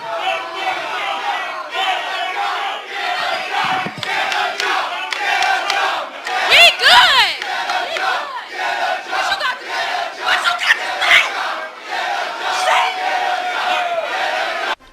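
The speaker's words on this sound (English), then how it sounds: "A whole crowd of people came to the front and started chanting, "Dump Trump."" A protest crowd packed near a stage chants in unison, a loud, dense roar of many voices with rhythmic shouted phrases and scattered yells throughout, heard close and continuous.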